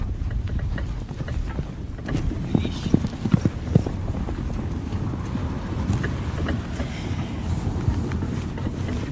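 Horse hooves clip-clop in a steady, uneven rhythm as a horse pulls a wagon, close and fairly loud over a continuous rumbling background.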